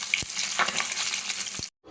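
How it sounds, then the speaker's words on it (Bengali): Katla fish pieces frying in a pan of oil give a continuous bright sizzle with a few soft knocks from the pan, then stop abruptly near the end. "মাছগুলো প্রায় ভাজা হয়ে এসেছে।"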